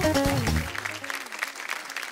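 An audience on a Marathi TV game show bursts into applause, loud and dense at first, then thinning into scattered clapping under a tonal musical sting and sustained notes.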